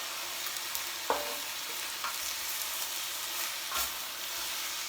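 Cabbage gets stirred in a soup pot over a steady sizzle, with a few distinct scrapes and knocks of the spoon against the pot breaking through the continuous frying hiss.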